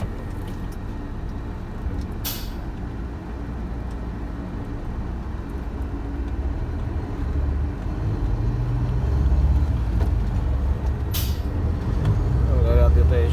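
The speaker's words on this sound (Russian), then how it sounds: "Две вольвочки груженные идут." Loaded Volvo trucks grind past on an icy, snow-covered road, a steady low engine rumble that swells closer toward the end, with two sharp air-brake hisses along the way.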